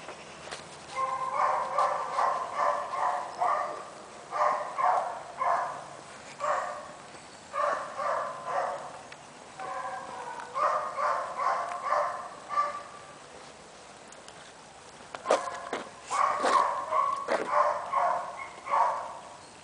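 Several dogs bark and yelp in repeated bursts at a veterinary faculty, with higher whimpering cries near the end, heard from a moderate distance.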